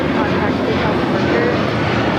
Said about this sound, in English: This is United Airlines 1589 taking off to Newark on the 757-200.